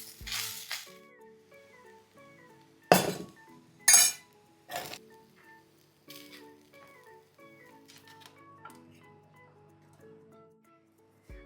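Mushroom fried rice is served into a bowl with scattered, close clinks of a spoon against dishes, a few louder knocks among lighter taps and quiet pauses.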